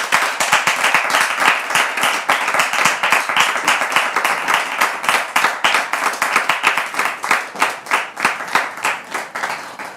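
A French television studio audience claps steadily for about ten seconds, with dense and lively applause that thins slightly toward the end.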